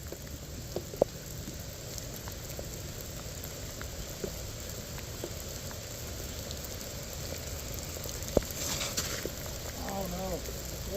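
Light rain patters steadily on a disc golf course, a faint hiss with occasional louder drops and a few brief knocks.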